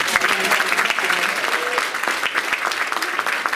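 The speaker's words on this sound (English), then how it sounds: "One more round of applause for her, please." Applause from an audience at a Langston Hughes oratorical contest, a steady crackle of many hands clapping close by, with faint voices briefly underneath.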